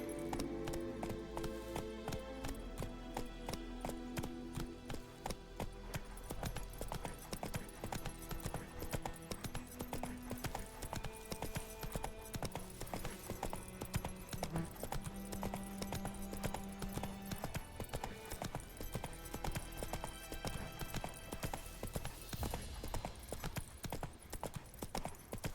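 Video game horse Roach gallops continuously, rapid rhythmic clip-clop hoofbeats close and steady for the whole stretch, with a faint tonal music-like background underneath and no speech.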